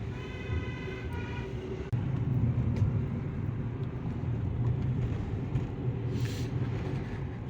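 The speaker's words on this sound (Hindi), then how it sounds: "अभी के टाइम पे यहाँ पे सारी छोटी छोटी गाड़ियाँ जा रही हैं, कार।" Cars travel along a road near Srinagar Garhwal, a continuous close engine and road rumble with a brief horn-like tone early on and a passing hiss near the end.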